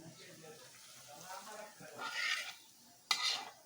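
Polau rice poured into a cooking pot and stirred for a Bangladeshi pilaf, with soft scraping and rustling that ends in a sharp metallic clatter near the close, close by and moderately loud.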